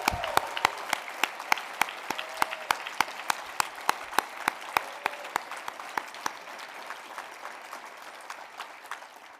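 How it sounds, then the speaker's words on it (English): An audience at an alumni awards ceremony applauds steadily, with a few sharp, regular claps standing out near the front over the general patter, slowly tapering off. "Please join me in giving them one more rousing round of applause."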